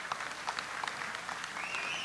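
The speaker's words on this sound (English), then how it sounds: "we give our coaches, a round of applause for all their hard work" At a wrestling awards event, an audience gives the coaches a round of applause, a sustained burst of clapping with a few louder individual claps standing out.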